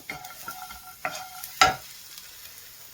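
Ginger, garlic, cashews and onion stirred in a pan for a mushroom egg curry, a few distinct scraping clatters of a spoon against metal over a faint sizzle, quiet between strokes.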